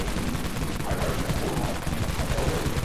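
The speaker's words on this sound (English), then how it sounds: "now we're going to be trying the Dawn minigun" Dawn minigun firing in the video game Dead Frontier: a loud, unbroken stream of rapid automatic gunfire that roars steadily from start to finish, close and dense.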